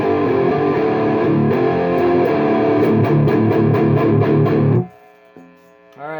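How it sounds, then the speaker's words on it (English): Thick, distorted electric guitar chords through an Orange Super Crush 100 amplifier, spring reverb off, ring out for several seconds, then drop away to a few quieter, drier picked notes and a brief swell. "I'll just show you the tone without the spring reverb."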